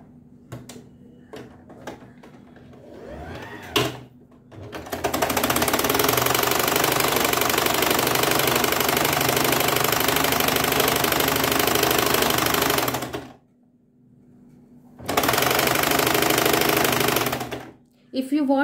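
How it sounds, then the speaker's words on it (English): A sewing machine stitches a sailor collar in a long, loud, steady mechanical run, pauses briefly, then resumes for another burst, with a few handling clicks and a voice before the stitching begins. "we'll start stitching"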